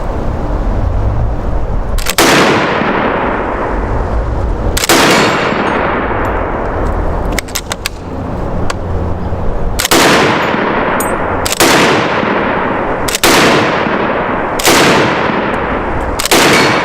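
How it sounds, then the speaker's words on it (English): A BREN gun converted to ZB-39 configuration fires loud, close shots in a spaced series of about seven reports, each cracking sharply and ringing off into a long decaying echo, with no talking. "what it's like to shoot a BREN gun"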